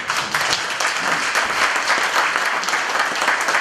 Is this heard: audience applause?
yes